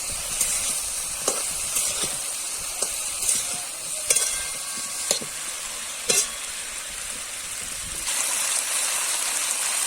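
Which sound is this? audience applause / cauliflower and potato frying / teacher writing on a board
cauliflower and potato frying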